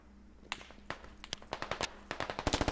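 Gunfire in the Squad military video game, scattered sharp shots that quicken into rapid bursts toward the end, set against faint background hum.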